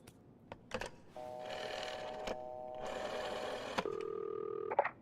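Telephone dialed at a hotel front desk in the horror video game This Bed We Made: a few sharp clicks, then steady electronic tones as the number is entered, ending in a held beep, with no talking.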